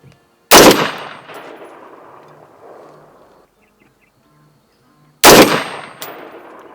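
Two loud, sharp rifle shots from an MPR rifle fired at a target, spaced several seconds apart, each ringing out and fading with a short echo into quiet.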